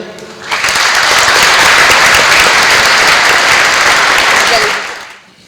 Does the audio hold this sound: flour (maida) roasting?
no